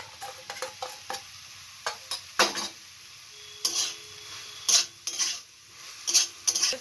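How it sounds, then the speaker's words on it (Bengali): A spoon stirs and scrapes fried okra and chhana with turmeric in a metal pan, a string of separate clinks and scrapes over a faint sizzle, close and clear, with no talking. "ভেজে রাখা ঢেঁড়সটা দিয়ে দিলাম।"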